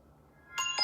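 A dangerous, scary phone ringtone starts after near-silence: two short, quiet electronic tones with bright harmonic ringing, the second following closely after the first.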